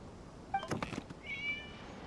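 A cat in the video game True Tales of the Violet Garden meows twice, a short call followed by a longer drawn-out one, with a few soft thumps between, fairly quiet.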